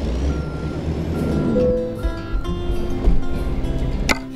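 A truck's reversing alarm beeps steadily while it backs into a parking spot in American Truck Simulator. The beeps ring out over a deep, loud engine rumble, with a sharp clunk near the end.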